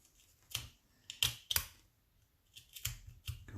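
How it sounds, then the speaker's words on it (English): A craft knife peels and splinters small cuts off wood for an H0 scale model track bumper, giving sharp crisp snaps in two pairs, then a cluster of quicker close cuts, with no talk. "these cuts I can peel off with the knife"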